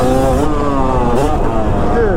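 A Yamaha YZ250 two-stroke dirt bike with an aftermarket head and carb mods revs loudly and close, its buzzing engine note rising and wavering, with a voice talking over it.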